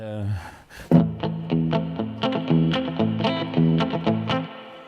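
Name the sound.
Fender Stratocaster guitar on clean amp channel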